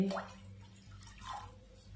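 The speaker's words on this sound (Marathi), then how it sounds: "इथं मी एक कढाई घेतलेली आहे, त्याच्यात मी पाणी टाकते" About one and a half glasses of water poured into a kadhai to make jaggery water: a soft, brief splash and trickle near the start, then faint dripping over a low steady hum.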